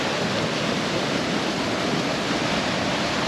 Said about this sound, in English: Gotta love a good river.